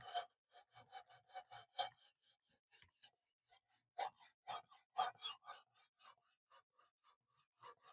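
Knife blade edge being sharpened, a close series of quick, crisp rasping strokes in uneven rhythmic bursts with short gaps, quiet overall and with no voices.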